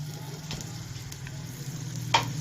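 Onions sizzling as they fry in cooking oil for a mixed aloo matar gajar vegetable dish, a steady close hiss with a few soft stirring clicks and one sharper knock near the end.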